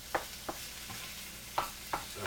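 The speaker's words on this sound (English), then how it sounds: "We're going to try to stir in these onions and this garlic and everything, and just get all this stuff together" Onions and garlic are stirred into browning meat in a pan, a spoon scraping in short separate strokes about every half second over a soft steady sizzle.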